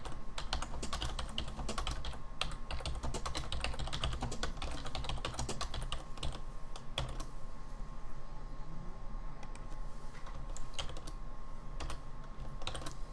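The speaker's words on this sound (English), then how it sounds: "I've got to type in my blog title." Typing on a computer keyboard, a steady stream of quick close clicking keystrokes at a low level, continuing throughout with no voices.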